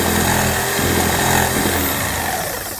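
A jigsaw cuts through thick solid pine with a steady, loud, buzzing rasp that holds at an even level throughout.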